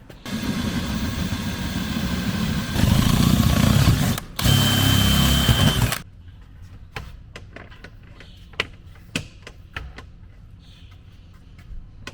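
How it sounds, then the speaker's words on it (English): A power drill whirs loudly for about six seconds while boring a hole in a camper, its pitch rising briefly midway, then stops, leaving faint clicks and handling knocks. "So obviously we had to drill out another hole"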